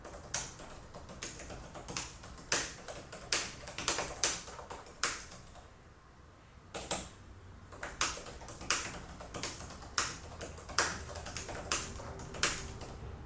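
Steady typing on a clicky Logitech Flip Folio keyboard case for iPad Pro, quick tapping keystrokes with a short pause midway, close and fairly quiet.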